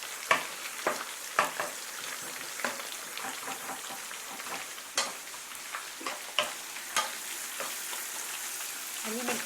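Food stir-fried in a pan in a home kitchen, with a steady soft sizzle and repeated sharp scraping and stirring clicks at irregular intervals, fairly quiet.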